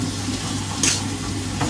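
Chicken meat frying in a pan gives a steady, close sizzle, with a short louder crackle near the middle.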